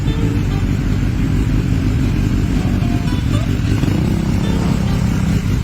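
A 2019 BMW S1000R motorcycle engine runs steadily up close while being loaded at a pier, a loud continuous idle rumble with faint clatter throughout.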